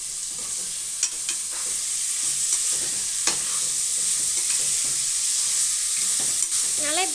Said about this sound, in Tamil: இப்போ நம்ம சிக்கன் எடுத்து உள்ள போட்டுக்கலாம்